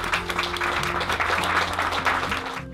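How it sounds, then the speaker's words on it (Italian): Brief audience applause at a documentary presentation, a steady patter of clapping with a faint low hum beneath, fading at the end. "Grazie Franco Roll, un applauso."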